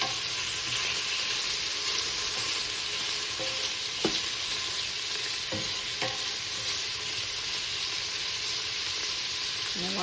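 Sausage frying in a pan for New Orleans-style jambalaya gives a dense, steady sizzle throughout, broken by a few brief scrapes of stirring; no one speaks.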